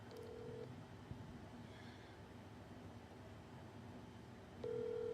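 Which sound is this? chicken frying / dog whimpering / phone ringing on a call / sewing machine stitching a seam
phone ringing on a call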